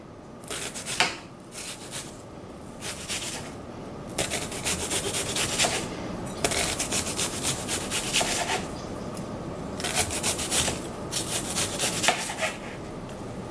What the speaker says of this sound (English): now I'm just slicing down the face of the onion to create this really finely minced onion